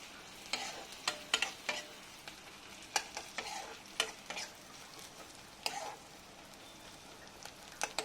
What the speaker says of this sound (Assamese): এইখিনি দি মই এবাৰ ভালকৈ ভাজি ল'ম।